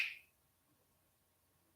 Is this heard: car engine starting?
no